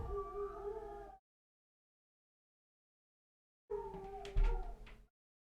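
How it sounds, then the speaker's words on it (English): Dogs howling outdoors amid noisy commotion, a long drawn-out howl that cuts off abruptly, then after a silent gap a second burst of howling with harsher cries, fairly faint overall. "so the dogs are going crazy."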